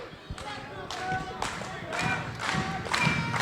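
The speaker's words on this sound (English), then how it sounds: "The crowd's getting into it" A wrestling crowd at a live event cheers and claps in rising waves, with steady rhythmic clapping and a few thuds in a large hall, under loud talk over the top.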